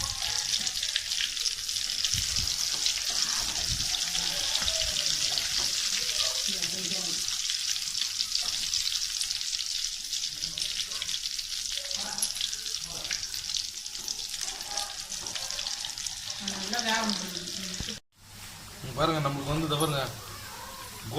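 Boiled egg masala bonda, made with country chicken eggs, deep-fries in hot oil with a continuous bubbling sizzle under a person talking, then the frying briefly cuts out before resuming with stirring.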